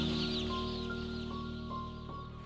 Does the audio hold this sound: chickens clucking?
yes